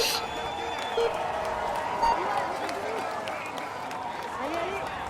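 Game crowd cheering a time-trial cyclist in Tour de France 2021, a steady wash of roadside applause and shouting running throughout at moderate level with a few louder swells.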